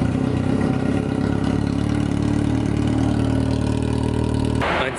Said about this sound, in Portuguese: A gente vai dar a primeira partida agora. Dá a partida pra nós aí, vamos ver o jeito que ficou.